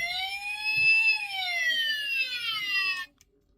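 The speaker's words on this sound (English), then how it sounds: "You press the gray button on the back, it'll activate his lights and sounds." Transformers Dark of the Moon Mechtech Leader Class Sentinel Prime toy playing electronic sounds, a tinny synthesized siren-like tone that rises, then sweeps downward before cutting off abruptly, close and fairly quiet with no talk.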